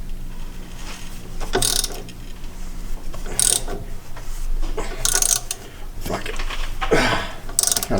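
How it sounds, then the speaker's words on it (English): A ratchet turns the alternator to rotate the engine of a 1995 Ford F-150 barn find, giving several bursts of rapid metallic clicking spread over the clip, close and fairly loud, with no talk. "I think I should be able to get this ratchet on the alternator and rotate this motor"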